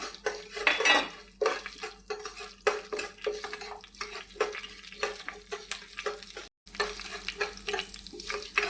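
Chana dal, fenugreek seeds and urad dal being dry-roasted in a pan for curry leaf powder: close, continuous scraping and clinking of a spoon against the metal pan with a faint sizzle underneath, and no talk.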